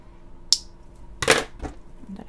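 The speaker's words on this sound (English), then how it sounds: "we're going to use these scissors and hope that I don't make such a mess" Scissors snip while a rat is being treated for mites, with a sharp click near the start and a louder cluster of cutting sounds midway, close and alone in a quiet room.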